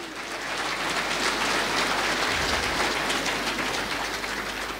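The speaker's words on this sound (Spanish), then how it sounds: "Fuerte aplausos." A congregation at a Quechua-language Christian gathering bursts into loud applause, a dense roaring wash of clapping that stays strong and unbroken from start to finish.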